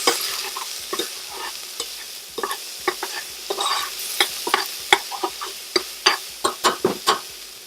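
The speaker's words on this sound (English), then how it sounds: "And we're going to stir it." Diced onion, pepper and garlic fry in a pot while a spoon stirs through them, a soft sizzle punctuated by a regular series of sharp scraping knocks against the pot that grow more frequent, close and clear.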